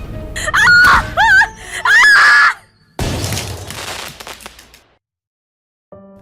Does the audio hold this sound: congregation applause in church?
no